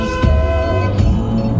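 A car horn held in long sustained honks in traffic during a road-rage standoff at a green light, loud and close over steady road noise.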